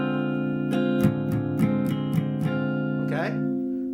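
Someone plays a D half-diminished chord on guitar with a short run of rhythmic strums, then lets it ring. A voice speaks briefly near the end.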